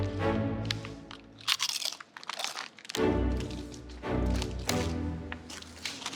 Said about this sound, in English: who doesn't love that crunch of a golden potato chip?